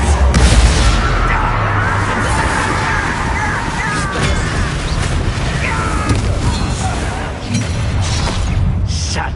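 Loud magical duel in Hogwarts Legacy against a goblin, Confringo blasts landing among heavy booming rumbles and sharp crackles, a thick steady wall of battle noise with a strong low thump at the start.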